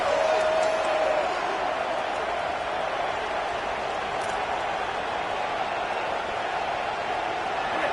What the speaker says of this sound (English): the crowd really getting into it